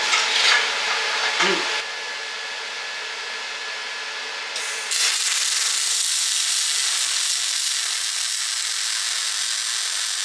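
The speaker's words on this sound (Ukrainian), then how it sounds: "зварка алюмінія на лінійному способі, без пульса." Steady crackling buzz of a JASIC MIG 200 welder running aluminium in linear mode without pulse, close and continuous, with a brief pause and change in tone midway before the arc carries on.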